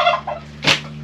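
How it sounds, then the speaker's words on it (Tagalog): A turkey on a farm gives a short gobbling call, a quick rattling burst heard close and alone near the end of a brief moment. "ito yung pabo"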